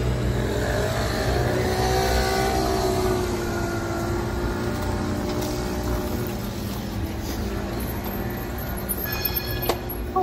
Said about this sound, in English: a lot of scooters and bicycles compared to the cars.